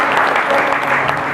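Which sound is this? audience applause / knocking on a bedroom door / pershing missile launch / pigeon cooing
audience applause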